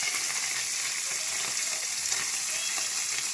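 Long fish frying in oil in a pan, a steady, even hiss and sizzle close by with faint crackles and no voices.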